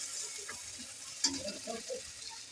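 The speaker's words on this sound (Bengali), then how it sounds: "সব মশলাগুলো ফ্রাই নিব" Spices with onion, chili paste, green chili, turmeric and salt fry in a pan with a soft, steady sizzle, a faint spoon scrape and a few light taps, close and quiet, no voice.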